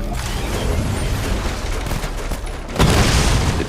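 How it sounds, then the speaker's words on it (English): A chain gun fires in the Batman Arkham Knight video game, producing a dense, continuous rattle of rapid shots with a heavier burst near the end, loud and close with no talk. "The chain gun's not powerful enough."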